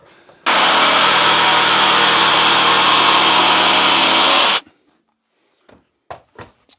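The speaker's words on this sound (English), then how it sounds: "My idea is cut this piece of MDF with it like this and then see if it's actually cut at 45 degrees." A Stanley Fatmax V20 jigsaw makes a 45-degree cut in MDF, a loud buzzing saw run of about four seconds that starts and stops abruptly, followed by a few light knocks and clicks.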